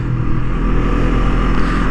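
A 2023 Honda CL 500 motorcycle engine running on a racing track, a loud, close, steady throbbing drone with continuous low rumble and no talking.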